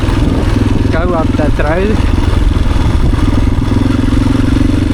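An enduro motorcycle rides along a trail, its engine a loud, steady drone that runs through the whole stretch while someone talks over it.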